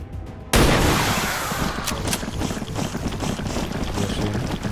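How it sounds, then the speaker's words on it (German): Flashbang grenade and gunfire in the video game XCOM 2: a sudden loud burst that breaks into sustained crackling noise with scattered sharp reports, heard alone with no talking. "Ich hoffe, dass die Blendgranate so wirkt."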